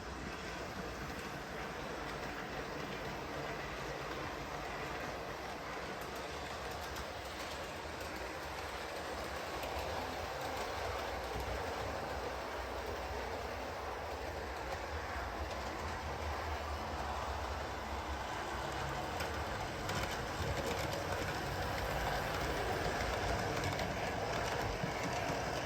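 A model train rolls along a layout track with a steady, low rumbling clatter that holds throughout and swells slightly toward the end.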